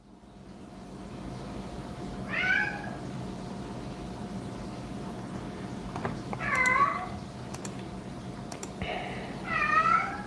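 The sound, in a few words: cat meowing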